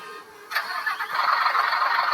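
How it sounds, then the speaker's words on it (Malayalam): A truck engine in a truck-driving video game cranks into life after a brief quiet moment, then settles into a steady, rumbling run. "അതുകൊണ്ട് വണ്ടി എഞ്ചിൻ സ്റ്റാർട്ടാക്കുന്ന സൗണ്ട് കേൾപ്പിച്ചായിരുന്നു"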